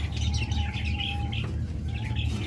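A pair of red-headed lovebirds chirps with short high calls while wings flutter and shuffle close by, over a constant low background hum.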